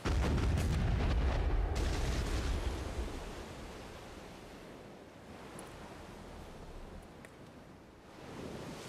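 Heavy booming cannon fire from a ship in a boat-building video game, a dense loud burst of blasts over the first three seconds that trails off into rushing, surf-like noise.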